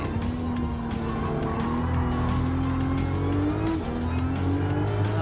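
Toyota Supra in Gran Turismo 7 from the in-car view, engine droning at a steady high pitch that climbs slowly and dips once as if shifting, loud and continuous with faint tire noise beneath.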